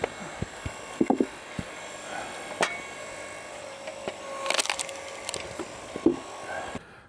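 Old-fashioned log splitter working a wood block, sparse sharp wooden knocks, creaks and splintering cracks at irregular intervals, close and fairly quiet, with a louder splitting crunch near the middle.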